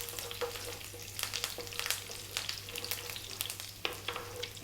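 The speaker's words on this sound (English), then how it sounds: "2 teaspoons of cumin seeds, and then our curry leaves, which can be noisy." Cumin seeds and curry leaves frying in hot oil, a continuous close crackling sizzle with sharp pops scattered throughout over a low steady hum.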